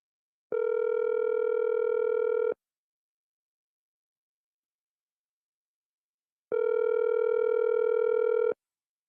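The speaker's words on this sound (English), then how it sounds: "The phone ringing, eh?" A landline telephone rings on an incoming call during a Trinidad and Tobago talk radio broadcast, sounding as two long, steady, fairly loud ring bursts about two seconds each, separated by a silent gap of several seconds.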